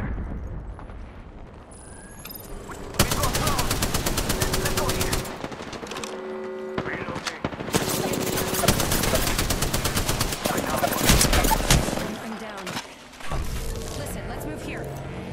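Heavy gunfire in the Apex Legends video game, long bursts of rapid automatic fire with loud impacts and a few pauses, under game voice lines and talk.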